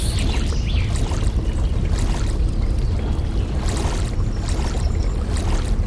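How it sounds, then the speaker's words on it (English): Fast river water rushes and splashes steadily around a canoe in the Molly of Denali canoe game, a dense, loud, continuous churning with no voices. "Spots where the water moves really fast are called rapids."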